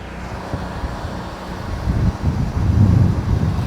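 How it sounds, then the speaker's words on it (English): Strong outdoor wind buffets a microphone during a house soft-washing job, a rough low rumble and roar that swells louder toward the end, with no talk. "the wind is so intense that it's absolutely killing us"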